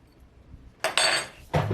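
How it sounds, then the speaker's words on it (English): A spoon clinks and scrapes against a dish in two short bursts while stirring in oil, close by, with no talking. "stir it up a"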